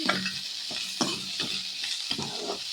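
Onions and curry leaves sauté in hot oil for toor dal adai, a steady close sizzle broken by repeated scraping stir strokes at a roughly even pace, with no voices.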